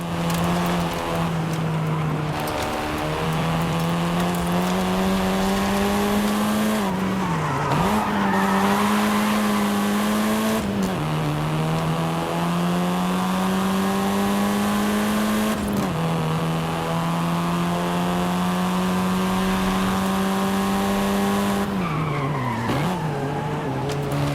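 A car drives hard in Forza Horizon 5 on a Mexico story route, its engine droning loudly as it rises and falls through shifts while tires screech and skid repeatedly through corners, close and continuous.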